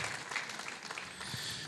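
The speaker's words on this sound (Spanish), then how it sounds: "Bríndele fuerte el aplauso al Señor." Church congregation applauding during an evangelical Spanish-language service, a steady wash of clapping throughout, moderately distant and fairly quiet, with no clear speech over it.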